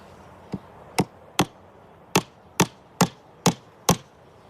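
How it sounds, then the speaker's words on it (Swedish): A 4-inch nail hammered into a house facade, eight sharp separate hammer blows, mostly evenly spaced with one short pause, close and loud against a quiet background, no voices. "Vi börjar med att fästa upp en 4-tumsspik i fasaden som vi kan spänna murarsnöret i."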